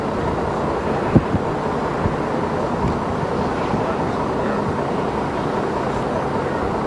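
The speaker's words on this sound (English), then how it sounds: "And it's very windy here." Strong wind at Lindos buffets the microphone in a steady, loud roar with low rumbling gusts and a couple of brief knocks, with no voices.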